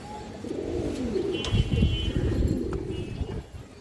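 Pigeons coo softly in a loft where pairs are kept for sale, their low murmuring calls overlapping steadily and fairly close for a few seconds with no talking.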